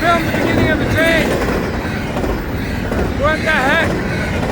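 Railcars roll steadily by near St. Augustine Beach in a continuous loud rumble, with short metallic wheel squeals rising and falling twice, and faint voices mixed in.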